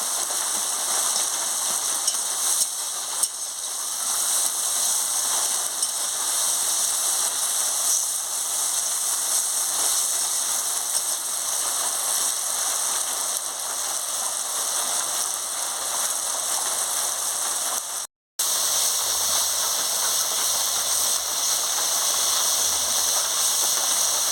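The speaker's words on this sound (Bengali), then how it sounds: "দেখুন এইভাবে মশলাটাকে ভালো করে আমি কষিয়ে নিচ্ছি" A spice paste (masala) is stir-fried in a pan for a fish curry with potato and pointed gourd. It gives a steady, dense sizzling hiss that runs without a break for the whole stretch, with no talking.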